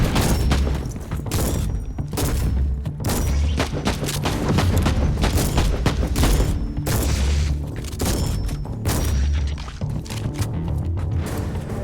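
Repeated shotgun blasts in Warhammer 40K Inquisitor Martyr, loud booming shots in steady succession over a dense, continuous battle din.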